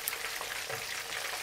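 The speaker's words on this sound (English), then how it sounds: "We've been frying the fish for approximately 2 to 3 minutes." Whole fish frying in oil in a wok for sweet and sour fish, a steady broadband sizzle and crackle with no pauses, close and even in level.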